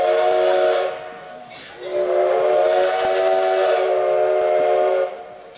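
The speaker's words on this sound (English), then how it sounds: "2 whistles." Steam whistle of a tourist train sounding twice in Hill City, South Dakota, two long, loud harmonic blasts separated by a short gap, the second one longer.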